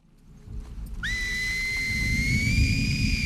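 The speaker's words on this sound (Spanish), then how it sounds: "Para crear los silbidos de los serafitas, Naughty Dog se inspiró en lenguajes de silbidos de Esfiria en Grecia y en el silbo gomero" Seraphite whistling from The Last of Us Part II, a single long, clear whistled note that rises sharply and then holds steady over a low rumbling ambience.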